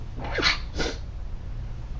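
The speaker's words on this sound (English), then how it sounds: "I'm going to sneeze." A single person sneezes close by: a sharp breathy intake, then an explosive burst, then quiet.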